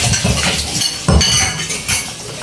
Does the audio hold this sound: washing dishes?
yes